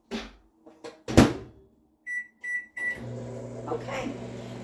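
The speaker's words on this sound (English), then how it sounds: "put it in the microwave" A microwave oven door clunks and keypad beeps sound in three short tones, then the oven starts up with a steady mains hum and whir that carries on to the end, heard alone at close range.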